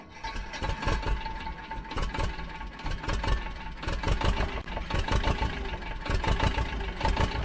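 A pulsing, rattly idling engine passed off as a leaked Ferrari 2026 Formula 1 engine but not the genuine unit. It throbs unevenly and close up for the whole stretch, with no one talking over it.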